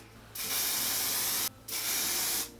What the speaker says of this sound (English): finally I'm just gonna take hairspray, zhuzh it all over.